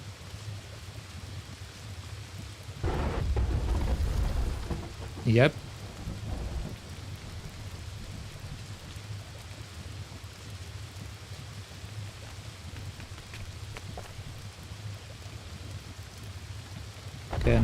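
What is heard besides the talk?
thunder and rain in the video game Candle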